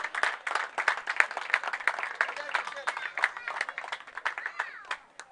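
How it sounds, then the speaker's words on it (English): Audience clapping at a cricket prize distribution ceremony, a lively burst of many hands that stays steady before thinning out toward the end. "Round of applause."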